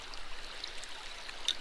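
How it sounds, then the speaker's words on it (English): River water rushes steadily through a gold prospecting sluice on the Kern River, a continuous close broadband wash with small splashy flickers and no talk. "you can see that the material's going real fast through my sluice here"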